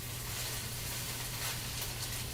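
Food sizzles in a frying pan as a steady, faint hiss that continues without a break, with a low hum beneath and no talking.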